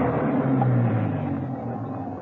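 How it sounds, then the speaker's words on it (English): A car engine rumbles as it comes up a driveway, a steady low drone with a slight rise and fade, heard alone over a short stretch in an audio drama. "A car was coming up the driveway."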